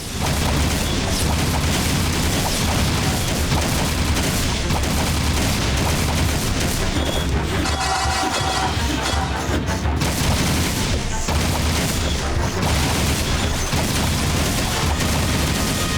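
Combat from the video game Jak 3 on Hero Mode, loud continuous gunfire bursts and booming explosions packed densely together, with rapid punches and shots layered throughout.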